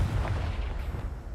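A Confringo fire-blast spell explodes in Hogwarts Legacy, a short, loud, booming burst with a rough rolling tail that fades within about a second, with no talking.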